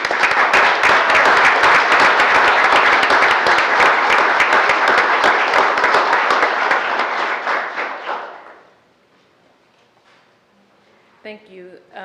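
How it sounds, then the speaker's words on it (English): A room at a work session applauds the library staff, dense sustained clapping for about eight seconds that quickly fades out, followed by near silence and a brief voice at the end. "Y'all need to stand up and let us clap for you"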